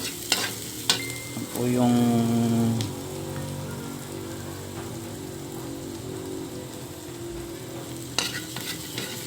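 Ginger, onion and garlic sizzle in a hot pan for chicken sinigang, a steady loud frying hiss with a brief stirring scrape early on and a couple of clacks, while a voice says a few words.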